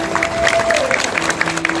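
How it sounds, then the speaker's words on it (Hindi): Devotees at a Shrimad Bhagavat katha applaud in a hall, a dense crowd patter of clapping with a faint sustained musical tone beneath, loud and close, continuing without speech. "तालियां बजाओ"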